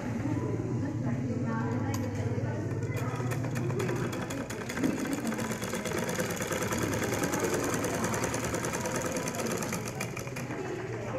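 A sewing machine runs steadily, stitching the sides of a handmade strawberry-style shopping bag, with a continuous mechanical whir and a fast needle rhythm throughout. A voice may be faintly present beneath it.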